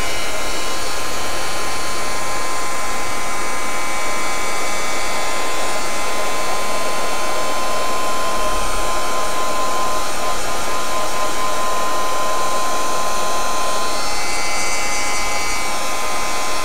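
A hair dryer blows in a steady, loud, continuous whine, drying a light pink nail finish at close range with no talking over it.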